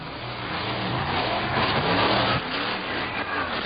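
Monster truck engine revs loudly at a Columbus, Ohio monster truck show, a dense continuous roar that swells through the middle and dips briefly before resuming.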